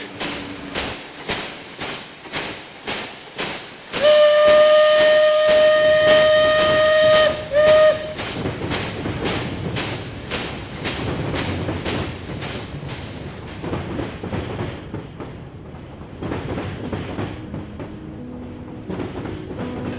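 A steam whistle blows loudly for a few seconds amid rhythmic chuffing of a passing train, the rumble fading as it moves away.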